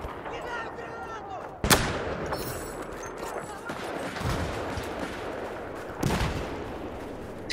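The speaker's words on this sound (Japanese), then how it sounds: "弾が超飛び合ってる" Gunfire in Battlefield 4, with sharp broadband shots around two and six seconds over a steady, dense din of distant battle noise, and light voices underneath.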